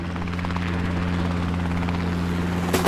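A helicopter setting down on the rooftop of the Manila Hotel, its rotor throbbing as a steady, loud drone close by for the whole stretch, with a sharper gust of noise near the end.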